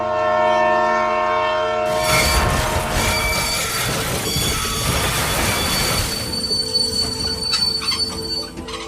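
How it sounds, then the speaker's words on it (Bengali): A local train arriving at a platform sounds a long, loud tonal whistle, then rolls in with heavy rumbling and shrill wheel squeal before easing into quieter clanks as it slows. "কথাটা বলতে না বলতেই হুইসেল বাজিয়ে ট্রেন প্রবেশ করলো।"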